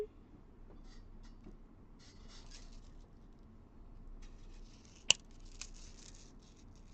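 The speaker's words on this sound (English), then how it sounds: "just by cutting right up against that loop, but not actually cutting the loop" A few faint, sharp snips of small scissors cutting flat sequin discs off a beading chain, with a quiet click and light handling noise in a near-silent room.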